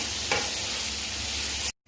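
Sliced okra (ladies' finger) sizzles in a hot pan with a steady frying hiss and a brief stir, close and even before cutting off abruptly.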